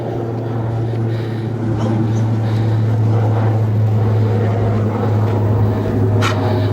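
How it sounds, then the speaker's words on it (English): Firefighting helicopter passing overhead during a California wildfire, a steady low rotor drone holding loud and constant throughout with faint outdoor background noise. "flying over us right now is this helicopter"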